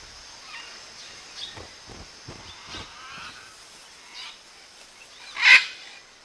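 Wild scarlet macaws call with a few faint, scattered squawks, then one loud, harsh screech near the end, against a quiet outdoor background.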